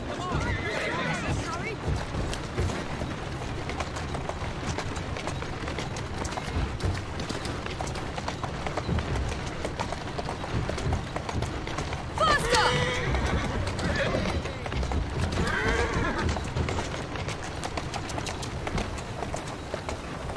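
A horse neighs over running hooves in the video game Assassin's Creed Syndicate, with a dense, steady rumble throughout and one sharp whinny in the middle, alongside game dialogue.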